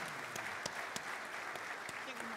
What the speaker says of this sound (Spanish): y este aplauso es para él.